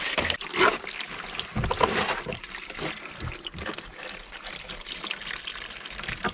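Spring water trickling and spilling out of a backed-up spring box at an off-grid Alaska homestead, a steady close liquid dribble with a few louder splashy surges early on, no talk over it.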